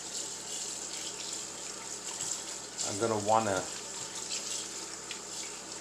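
Kitchen tap running cool water over salted cod and pollock to rinse off the salt, a soft steady stream swelling briefly louder midway, with a person talking over it.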